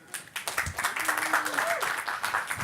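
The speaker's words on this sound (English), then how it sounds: "So giving him a warm round of applause" Audience applause at the EdTechxEurope 2017 keynote opening, welcoming a speaker to the stage. Steady, dense clapping fills the room for a few seconds, with a voice briefly audible over it.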